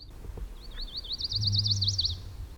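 A single chestnut-sided warbler sings a rapid, wavering series of high sweet notes rising toward the end, close and clear over a low hum.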